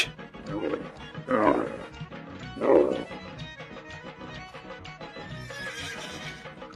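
A horse neighs in two strong bursts, each rising sharply and then tailing off, over a steady, busy background of other noise.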